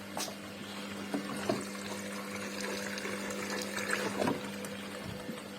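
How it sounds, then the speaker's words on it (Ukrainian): An Indesit washing machine refilling with water during its rinse cycle, a low steady hum with water rushing and trickling, plus a few faint knocks. "вже вона в полусканні перескочила, набирає знову воду."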